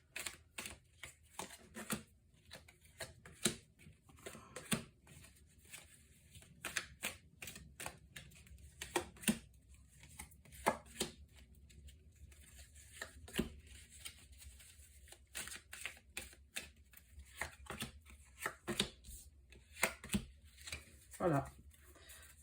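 Tarot cards are shuffled and handled in a quiet room, a long run of soft, irregular riffling and tapping bursts, close and faint, with occasional pauses.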